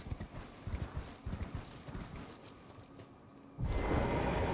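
Hooves of a horse in Elden Ring clop in quick uneven bursts at first, then give way to a louder, denser rush of galloping and ambient noise near the end.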